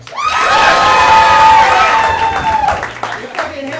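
A live improv comedy audience roars with loud cheering, whoops and clapping for a top-rated scene, a close, dense burst that peaks early and fades into scattered shouts.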